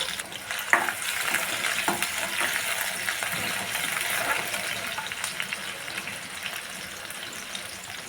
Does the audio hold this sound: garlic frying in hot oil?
yes